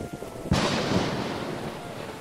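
Thunder in an Airport CEO storm: a sudden loud crack halfway through that rolls off into a long, fading rumble over background rain noise.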